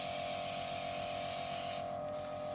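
A steady, continuous hiss from an Iwata neo TRN1 trigger-grip airbrush spraying paint without pause, close and fairly loud, with a brief dip in the high hiss near the end.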